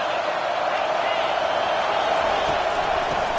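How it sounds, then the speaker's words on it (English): Stadium crowd noise from the College Football 25 video game forms a steady, dense roar, loud and unbroken throughout, like a packed stadium's constant din. "This crowd trying to make life miserable for this offense."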